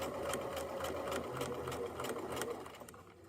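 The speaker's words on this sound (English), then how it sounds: "And I will sew down to the end." Sewing machine running steadily while stitching a quarter-inch seam, a close rhythmic whirring with quick regular needle thumps that slows and stops near the end.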